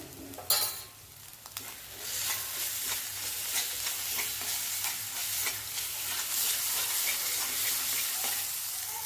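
Masala with ginger-garlic paste frying in oil over medium-low heat for dhaba-style shev bhaji, a close, busy sizzle with spatula stirring and scraping after a brief clink at the start.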